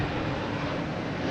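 A large Delta airliner flying past, a steady broadband jet roar filling the whole moment without a break, moderately loud and unaccompanied by voices.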